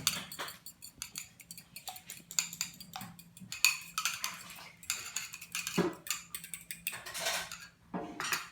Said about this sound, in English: first whisk your eggs